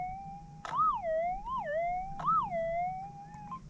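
A Manticore metal detector's electronic tone warbles up and down in pitch over a crystalline gold nugget, punctuated by two sharp clicks, close and fairly quiet with no speech.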